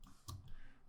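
A single soft computer mouse click, quiet and close, with a couple of faint ticks around it against a low background hush.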